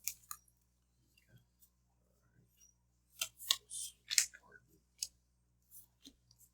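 Cards are shuffled for the board game Arkham Horror: Path to Carcosa, a few scattered clicks, then a brisk cluster of riffling snaps and slides, followed by a couple more isolated card taps in an otherwise quiet room.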